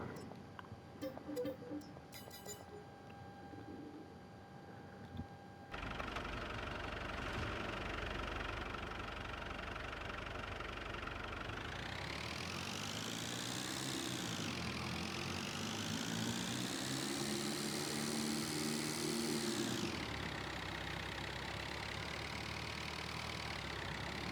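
A 4x4 vehicle engine in Farming Simulator 22 rumbles steadily, rising in pitch as it revs up, holding, then settling back to a lower idle, with no talk.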